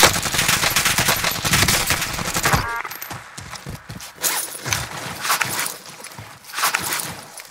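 Dense bursts of automatic gunfire in Call of Duty Warzone, a loud continuous volley for the first few seconds, then scattered, more distant shots and rattles continuing intermittently.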